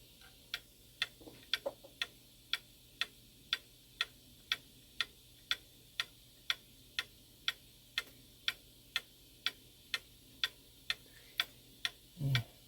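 A Shanghai 555 mechanical clock ticks steadily and close up, about two even, crisp ticks per second, ending in a brief louder knock.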